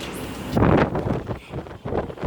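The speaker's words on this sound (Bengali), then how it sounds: "বৃষ্টি আর বাতাসে" A Kalbaishakhi storm brings wind and rain, heard as loud rushing gusts that buffet the microphone, surging and easing in waves.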